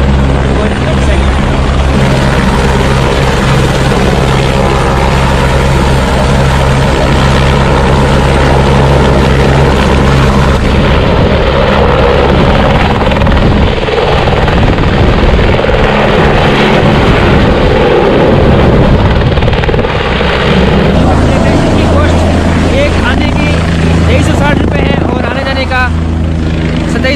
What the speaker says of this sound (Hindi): यहाँ पर दो हेलीकॉप्टर आ चुके हैं